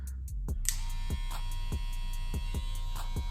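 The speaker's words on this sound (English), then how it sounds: "I'm gonna go ahead and take the blade cover off, and we'll go ahead and turn it on." A JRL FF202C hair clipper with its blade cover off switches on and settles into a steady, close electric buzz with a faint recurring throb.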